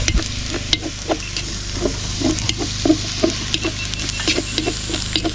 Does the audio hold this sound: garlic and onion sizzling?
yes